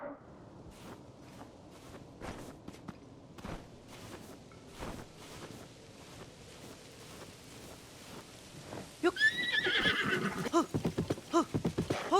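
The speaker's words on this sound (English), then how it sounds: "A beautiful fucking horse." Hooves clip-clop at a walk in the video game The Legend of Zelda: Tears of the Kingdom, then a horse gives a loud, drawn-out whinny followed by snorting, close by, with no talking.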